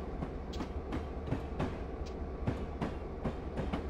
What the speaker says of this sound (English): the train's going to start going down the sharp hill